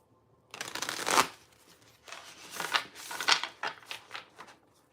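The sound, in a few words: shuffling playing cards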